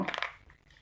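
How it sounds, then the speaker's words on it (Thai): A short crinkly rustle of a powder sachet being torn open, sharp at first and then fading into quiet handling noise. "ฉีกซองนะคะ ฉีกซองออกนะคะ"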